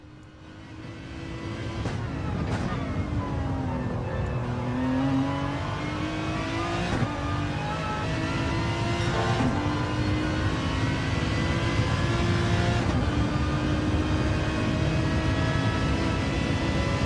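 An Aston Martin race car engine screams up and down through gear changes, with a high whining straight-cut gear note layered over the loud, close onboard roar.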